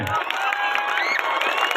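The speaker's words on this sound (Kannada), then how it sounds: "ಎಲ್ಲರೂ ಜೋರ ಚಪ್ಪಾಳೆ ಬರಲಿ." An audience at a village grand finale event claps and cheers steadily for a short burst, a dense crowd roar with shouts mixed in.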